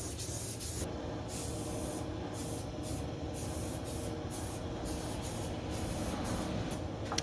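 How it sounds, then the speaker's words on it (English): Repeated hissing bursts from a spray can, short sprays separated by brief pauses, close by with steady background noise. "You might spray paint better than me."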